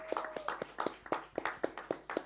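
Applause from a small room audience at a live music event: quick, uneven hand claps with a few people tapping along, moderately close and fairly light, no voices over it.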